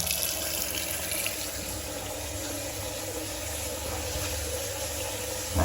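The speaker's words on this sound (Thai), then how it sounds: "เปิดน้ำแล้วนะครับ" Tap water runs steadily into a bathroom washbasin and down its drain after the drain assembly is refitted, a constant close hiss with no talking.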